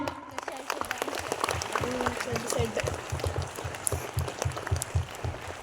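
Audience clapping together in a classroom quiz setting, with rhythmic, fairly loud claps and children's voices over a low hum.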